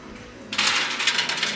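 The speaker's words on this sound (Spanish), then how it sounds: "Estas monedas se me atoran." Coins drop in a cascade coin pusher slot machine, a sudden jingling metallic clatter of many coins tumbling together and continuing in a bright rattling stream.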